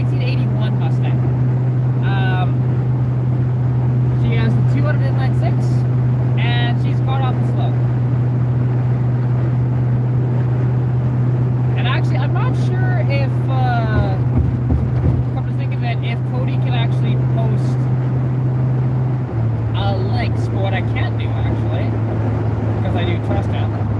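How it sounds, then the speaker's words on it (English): A 1981 Mustang with a 200 inline-six engine idles with a steady, loud, low drone that runs unbroken throughout, while a person talks over it. "This is my 1981 Mustang. She has the 200 inline six."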